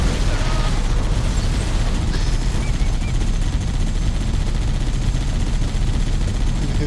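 Video game combat with dense, continuous rumbling blasts and gunfire-like crackle, loud and sustained throughout with no clear breaks, and a voice talking briefly in the mix.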